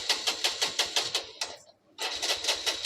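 A TVS Star City Plus motorcycle with a starting problem cranks on its electric self-starter with the throttle opened, a close rapid rhythmic churning that pauses briefly and resumes without the engine catching.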